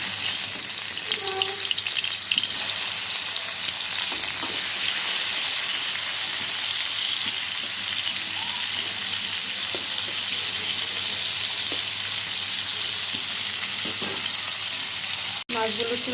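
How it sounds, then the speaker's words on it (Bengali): Koi fish frying in hot oil in a kadai, a steady loud sizzle and crackle running throughout with faint clinks and a brief knock near the end. "মাছগুলো একটু লাল করে ভেজে নেব।"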